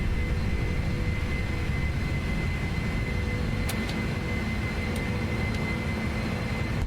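Simulated Boeing 747 jet engines at takeoff thrust in the PMDG add-on for Prepar3D, a loud constant broadband roar with a few faint clicks from the cockpit, no pause in the noise.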